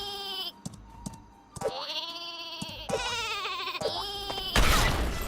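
The sheep weapon in Worms WMD bleats several times, cartoonish wavering baa calls in short bursts with brief gaps, ending in a harsh noisy burst like an explosion.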